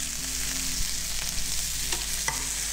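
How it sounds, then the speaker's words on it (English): Lamb souvlaki sizzling hard in a hot pan, a loud, dense crackle and hiss running throughout, with occasional scraping knocks from stirring close by. "it's sizzling quite hard"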